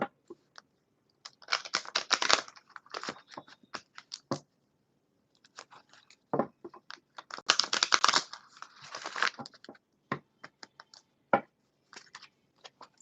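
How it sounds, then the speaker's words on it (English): A deck of tarot cards being shuffled by hand: brisk clusters of dry papery clicks and riffles, coming in two main bursts with scattered taps between, close and fairly quiet, with no talking. "I'm just giving all the cards a good shuffle"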